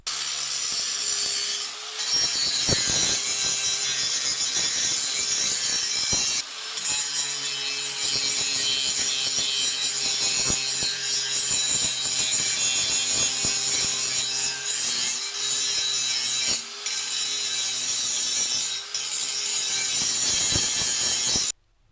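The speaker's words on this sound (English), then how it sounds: "Now we're going to grind in preparation to weld." A grinder working the tailpipe and muffler joint of a 1998 Chevy Blazer during a MagnaFlow muffler install, preparing the metal for welding. It gives a steady, harsh abrasive rasp for about twenty seconds with brief breaks, close and loud, with no voices.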